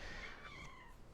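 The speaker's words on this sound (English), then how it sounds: "Kitty is now trying to climb up my legs" A house cat meows once or twice close by beside a desk where miniatures are being painted and glued. The cry is short, rising and falling over a steady room hiss.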